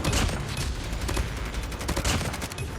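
Rapid, dense gunfire from a Call of Duty Hardpoint match, with overlapping automatic bursts and shots rattling continuously and loudly for the whole stretch.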